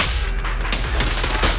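Rapid bursts of gunfire from the video game Zenless Zone Zero, heard as dense, loud overlapping shots and booms packed into a short stretch.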